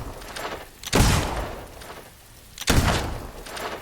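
Gunfire in the Fable II video game comes as two heavy booming shots roughly two seconds apart, each a sharp burst trailing off into a low rumble.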